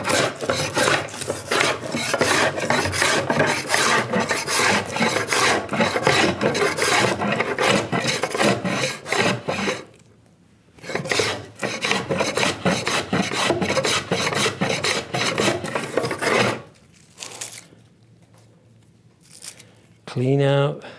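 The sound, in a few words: hand plane planing wood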